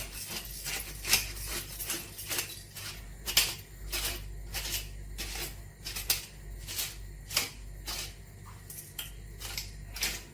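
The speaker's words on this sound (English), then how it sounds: "So let's do some fresh pepper." A pepper mill grinds fresh pepper over a pot of Irish lentil soup, giving a steady run of crisp, closely spaced crunching clicks, fairly near and quiet, with no talking.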